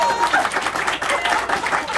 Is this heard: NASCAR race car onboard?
no